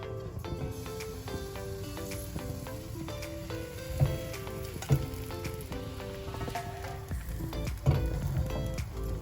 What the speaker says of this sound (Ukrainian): На добре розжарену сковорідку додаємо олії, не дуже багато, і вливаємо сюди нашу суміш.